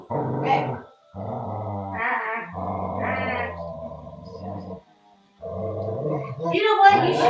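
A dog growls in long, rumbling, snarling bursts, close and fairly loud, with a brief silent pause before the growling resumes.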